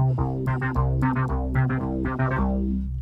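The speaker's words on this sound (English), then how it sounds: "the first sound that we're going to make is a bass that sounds something like this" Synth bass built from three tracks on a DRC synthesizer, recreating a song's bassline, playing a punchy repeating rhythmic line of short notes, loud and alone.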